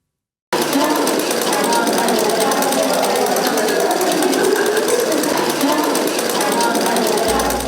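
Sewing machines run continuously during a tailoring training class for disaster survivors, a loud, steady mechanical rattle starting abruptly after a brief silence and holding without pause.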